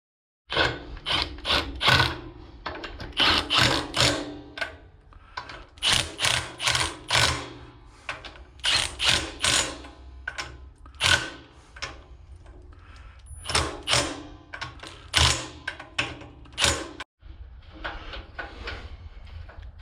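Bolts on the head of a leaking air compressor being tightened with a ratchet wrench, bursts of rapid close clicking in uneven runs separated by short pauses.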